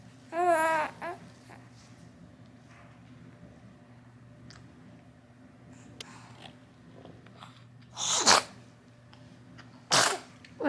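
A baby sneezes twice in a quiet room, each a sharp close burst a couple of seconds apart, after some early babbling and soft small noises.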